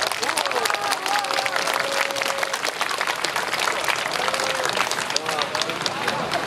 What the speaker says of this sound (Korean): 여러분 크게 박수 한 번 더 쳐주시기 바랍니다.